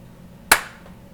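A single sharp hand clap for camera sync on a podcast set, one loud crisp snap in a quiet room with a brief room decay afterward.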